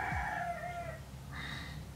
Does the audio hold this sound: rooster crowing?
yes